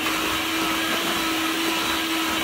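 Steady, loud electric mixer whir beating zucchini muffin batter with grated zucchini and its peel, an unbroken motor drone throughout with no voices.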